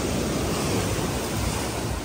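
Strong waves surging in at high tide along a rocky shore at El Nido, Palawan, a steady, loud wash of surf and wind noise with no breaks.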